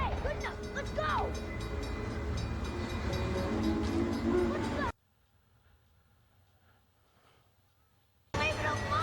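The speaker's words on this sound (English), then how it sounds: "The train is coming." A rumbling passage in the 1999 animated film The Iron Giant, with train noise and voices for about five seconds, then near silence with faint low hum, before the dense sound returns at the end.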